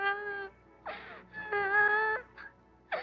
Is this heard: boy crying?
yes